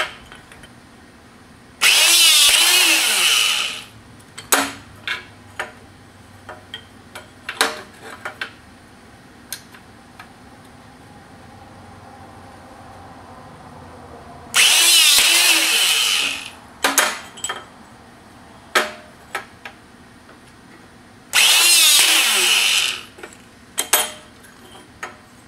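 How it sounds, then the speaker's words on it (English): Electric drill driving a homemade hydraulic hole punch for thick steel, whirring loudly in three sustained bursts of a few seconds each, separated by quieter stretches of clanks, taps and handling knocks in a workshop. "You get the drill."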